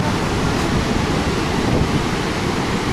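Big storm waves roll onto the shore at Alanya, Turkey, producing a steady rushing roar of surf with wind noise, loud and close, without speech.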